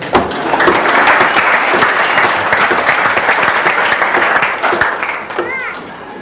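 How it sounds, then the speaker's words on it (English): Sustained crowd applause at a 1985 football club presentation night honouring the best-and-fairest runner-up, loud and dense throughout with some voices mixed in, tapering slightly near the end. "They can give him a clap now."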